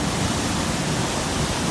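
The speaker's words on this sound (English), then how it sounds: "literally there's a waterfall right here" A waterfall in Ireland roars close and steady, a dense broadband rush of falling water filling the whole stretch with no other sound.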